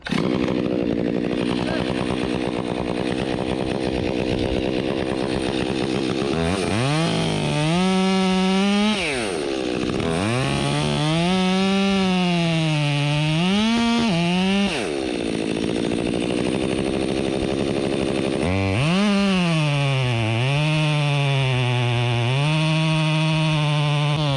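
A Milwaukee chainsaw cuts into a large tree during a removal in a tight space, its engine loud and close, bogging and revving in repeated surges between brief idle pauses.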